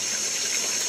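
A mountain spring gushes strongly out of the ground through a fitted hose, a steady, close, loud rush of flowing water with no pauses.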